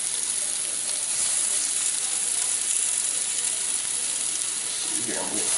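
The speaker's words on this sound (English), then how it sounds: "Got that good sizzle going." Venison burger steaks sizzle in a smoking-hot cast iron skillet, a loud, steady frying hiss running throughout with a brief clatter near the end.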